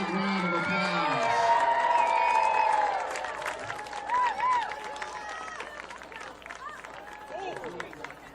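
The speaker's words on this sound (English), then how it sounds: "Cheer squad a big round of applause." At a high school varsity football game, a crowd cheers and claps for the cheer squad, a distant wash of applause and whoops that swells then fades, with voices and shouts mixed in.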